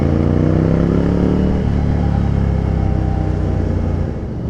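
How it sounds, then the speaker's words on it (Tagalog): A group of motorcycles on a charity ride along Quirino Avenue, their engines rumbling and revving together in a steady, loud, close drone that eases slightly near the end. "Grabe, daming mga motor guys."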